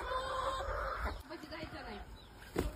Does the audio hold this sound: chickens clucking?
yes